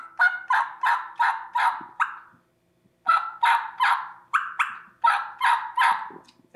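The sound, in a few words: hunter imitating a wild turkey with a turkey call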